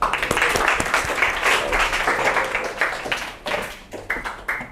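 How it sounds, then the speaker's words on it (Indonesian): A classroom audience gives a burst of applause, a dense patter of clapping that is loud at first and then thins into scattered claps. "Kita aplaus."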